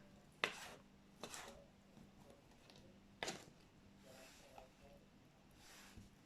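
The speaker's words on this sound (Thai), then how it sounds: "นำมาหั่นก่อนนะคะ" Roman snails (Weinbergschnecken) being chopped into small pieces, a few sharp knife strikes on a board spaced irregularly, close and fairly quiet with softer handling noises between.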